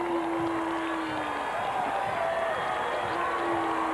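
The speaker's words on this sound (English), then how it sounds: "you hear the crowd talking about the Big Ten float right behind it" Crowd chatter along the Rose Parade route, a dense, steady murmur of many voices with a passing tonal whine over it, moderately loud and continuous.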